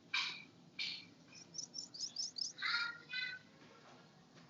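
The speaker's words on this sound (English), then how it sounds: "I can hear all the birds where you are." Birds chirp on a balcony in Sydney, Australia, a string of bright, close tweets and trills in quick phrases, fairly clear and with no one speaking.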